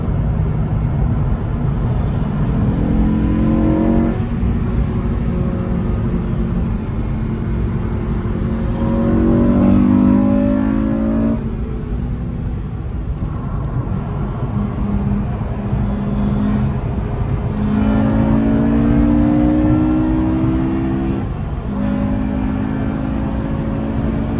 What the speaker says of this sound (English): you can also hear the throttle